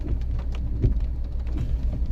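Rain drums steadily on a car while driving, a dense low rumbling patter of drops mixed with road and engine noise, fairly loud and continuous with no talk.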